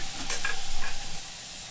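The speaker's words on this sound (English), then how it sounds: "So it's just going straight in the butter." Channel catfish fillets fry in butter in a skillet, giving a soft continuous sizzle with faint stirring scrapes, close by and fairly quiet.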